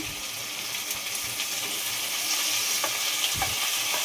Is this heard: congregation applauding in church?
no